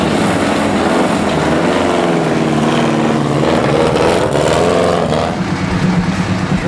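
A vintage Indy 500 racecar engine running steadily, a loud, close rumbling drone with a rough pulsing texture that holds constant and dips slightly near the end, with no talking over it.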